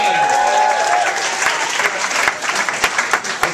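A comedy club audience claps and cheers in response to a stand-up comedian, a dense steady burst of applause from a crowd that thins out into scattered claps toward the end.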